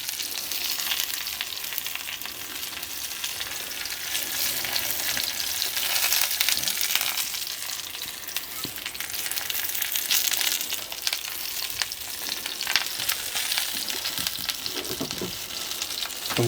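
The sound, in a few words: fry-up sizzling on a shovel, mushrooms frying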